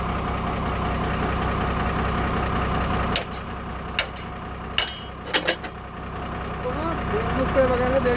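A motorbike engine runs steadily in gear at close range, a continuous low drone that steps down partway through, with a few sharp clicks and knocks over it and voices talking nearby.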